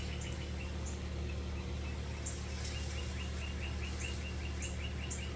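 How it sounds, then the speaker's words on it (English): A pet bird chirps indoors in quick, repeated high tweets over a steady low hum, fairly faint, with no talking. "my bird's chirping."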